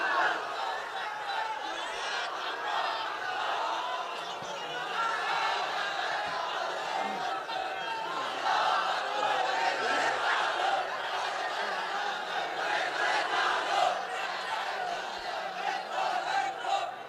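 A large religious gathering chants slogans together. A dense, sustained mass of voices swells and surges in call-and-response waves, moderately loud and steady throughout, with occasional laughter mixed in.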